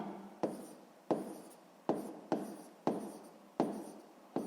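A pen writes on paper in a math exercise, with about eight distinct scratchy strokes in an uneven rhythm, close and quiet, and no voices.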